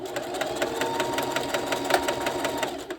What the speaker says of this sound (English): Let the sewing machine feed it in itself because it has teeth